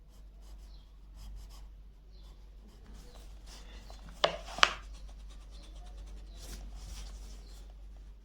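A pencil drawing a flipped shape on paper, soft scratchy strokes in short rhythmic bursts, with a couple of sharper taps in the middle, close and quiet.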